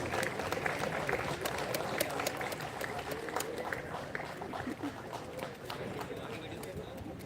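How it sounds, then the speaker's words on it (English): Prize winners at a C-DAC Mumbai convocation are applauded by the audience, steady clapping filling the hall with a crowd murmur and voices mixed in throughout. "Please give them a big round of applause"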